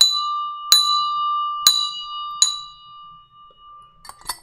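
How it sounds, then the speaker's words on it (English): A market opening bell rings four times in a steady sequence, each clang bright and loud with a long metallic sustain, followed by faint scattered clatter. "that's why we're gonna ring that bell right now"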